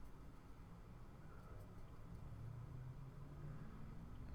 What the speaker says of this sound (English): I'm listening to somebody like peel their car out of the car wash or something